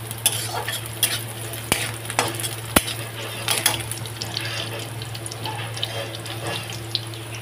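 Onion and green chilli frying in a pan until golden, a steady sizzle with scattered spatula stirs and sharp clicks against the pan, close and moderately loud, no voices.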